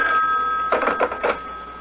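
A telephone rings in a radio drama with a bright, continuous bell trill, a steady electronic-sounding ring over faint room hiss and a few soft clatters, with no one speaking.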